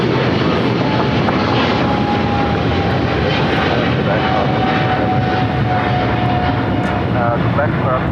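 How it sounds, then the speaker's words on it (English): An EVA Air Boeing 777-300ER takes off from LAX bound for Taipei, a loud continuous engine roar with a rising whine, while a voice talks over it. "This is EVA Air Flight 5 taking off to Taipei on a 777-300ER."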